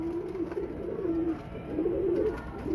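High-flyer pigeons kept for sale in Faisalabad coo in low, rolling, repeated calls, close and clear over a faint background hum.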